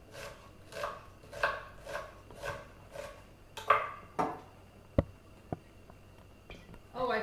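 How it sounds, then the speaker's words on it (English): An onion being chopped on a board: a run of regular knife strokes, then a few sparser, sharper knocks, all fairly quiet and close. "So I'm going to chop up the onion."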